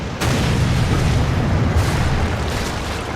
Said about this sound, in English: That was the arty missing.